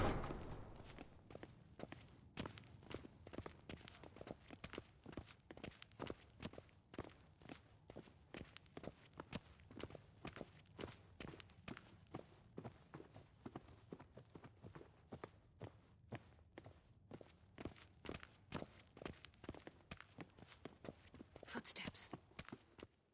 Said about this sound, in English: Footsteps.